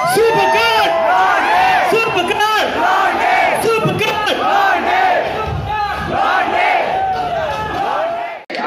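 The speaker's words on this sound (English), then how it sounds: "when I say supercar, you go Blondie" A large crowd at a Supercar Blondie fan event in India shouts a name back in unison on cue. The loud, excited massed yell lasts several seconds before dropping off abruptly.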